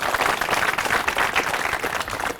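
Villagers at an outdoor farmers' question forum in Bulandshahr, Uttar Pradesh, clap to welcome visiting experts, a brief dense round of applause that holds steady and loud for the whole moment.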